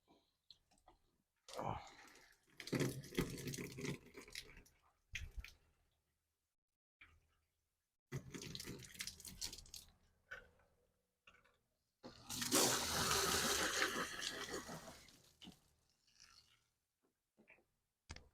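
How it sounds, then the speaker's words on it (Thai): Water sprayed in bursts onto a washing machine's water inlet filter clogged with limescale and algae, several separate hissing jets of a few seconds each, separated by silences, close and fairly quiet. "ก็ฉีดทำความสะอาดนะครับฉีดทำความสะอาด"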